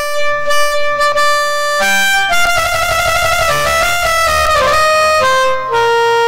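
A Linux-powered robot plays the clarinet with distinct articulation, a clear sequence of sustained, separated notes that slows and bends in pitch near the middle, loud and close with no talking.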